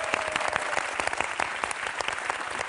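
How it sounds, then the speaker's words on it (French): Studio audience applauding on a French television game show, a dense, steady burst of clapping that fills the whole stretch at close range with no voices over it. "Nicole, là, on peut l'applaudir en tout cas"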